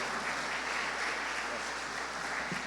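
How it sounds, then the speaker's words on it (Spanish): An audience at an industrial forum in Chiclayo applauds to welcome a speaker, giving dense, sustained, even clapping throughout that sounds like a full room. "Lo recibimos con fuertes aplausos"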